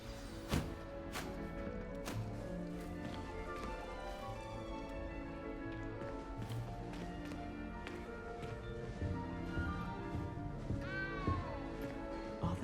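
A cat meows in a magic-themed video game, its calls rising over a dense, steady bed of game music and rain-like ambience, with no voices.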